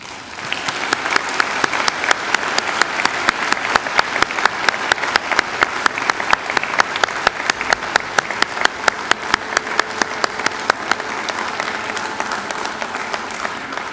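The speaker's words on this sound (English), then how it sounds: "give them a hearty round of applause" A graduation audience claps steadily for the graduates' families and friends, a dense, sustained round of applause at close range with no voices over it.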